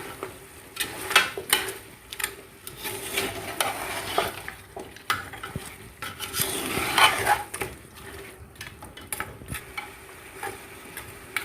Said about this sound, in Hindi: अच्छे से मिक्स कर लें टमाटर।